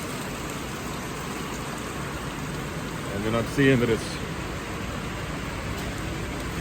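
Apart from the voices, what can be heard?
heavy rain downpour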